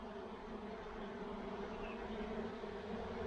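Honeybees buzz steadily inside an opened hive during colony inspection, a dense, continuous drone that holds a constant moderate level throughout with no talking.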